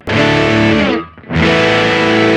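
Guitar played through a Boss GR-D hex fuzz distortion rings out as loud, saturated sustained chords, dipping into a short pause near the middle and then roaring back.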